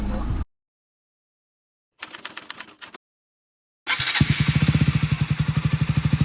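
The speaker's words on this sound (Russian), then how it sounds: "Здесь учим Ибрахима управлять мотоциклом." A small motorcycle's engine starts up and runs with a fast, throbbing putter, loud and close; it sputters briefly, goes quiet, then settles into a steady pulsing idle.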